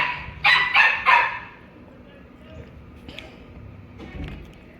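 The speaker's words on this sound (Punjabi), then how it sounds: "ਲੀਓ ਭੌਂਕ ਰਿਹਾ ਹੈ ਕਿਉਂਕਿ ਲੀਓ ਨੂੰ ਲੱਗਿਆ ਵਾ ਕਿ ਬੱਚੇ ਆ ਗਏ" A dog barks three times in quick succession close by at home, then things settle into quiet room noise with faint background sounds.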